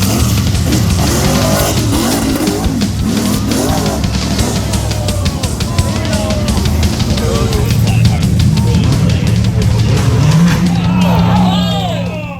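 High-horsepower rock bouncer off-road racers roar continuously with revving engines and a crowd in the background, loud and sustained throughout, with commentary speech over the top.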